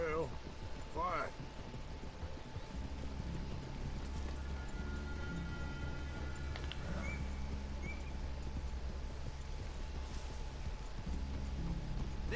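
Horse hooves clip-clop in the video game Red Dead Redemption 2 in a steady rhythm at moderate volume, with people talking over the sound and a faint background tone.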